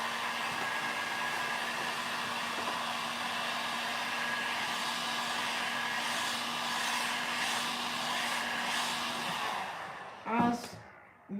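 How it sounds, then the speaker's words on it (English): A heat gun blows steadily while heating WoodUbend moulding on a DIY crate, a continuous close whooshing hum that cuts off near the end, followed by a few brief clunks. "when you are using your heat gun with the WoodUbend, you need to keep the heat gun moving at all times"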